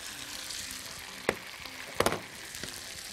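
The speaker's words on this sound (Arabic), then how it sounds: "بالبصل المكرمل، نحط الفول" Fava beans frying in a pan with caramelized onions give a steady soft sizzle, broken by a few sharp scraping clacks of a utensil stirring against the pan.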